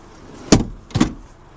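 Two sharp, close thumps of a 2013 Scion FR-S car door as the driver gets out, a latch click followed by a solid shut about half a second apart.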